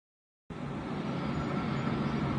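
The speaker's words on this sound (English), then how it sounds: "The train from London was in the long tunnel." A train from London rumbles steadily through a long tunnel, a dense, even roar that starts abruptly after a moment of silence and holds at a constant loud level.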